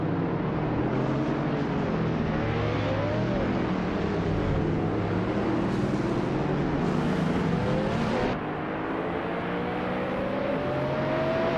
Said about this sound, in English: Bot Mission Man is racing a 2004 BMW M5, known for its balanced mix of power and handling